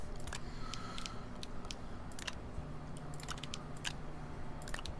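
Sharp mouse and keyboard clicks from gaming in the Astroneer alpha, scattered and irregular, come in small clusters over a steady low hum. Nobody speaks.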